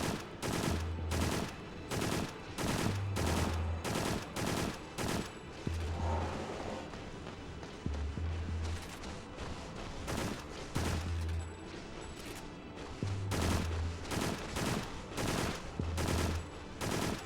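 Repeated bursts of gunfire from the PS2 game Extermination, loud rapid volleys with heavy low thumps recurring every second or two across the whole stretch, dense and close.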